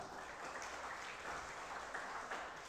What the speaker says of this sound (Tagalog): Isang palakpak muli sa Panginoon.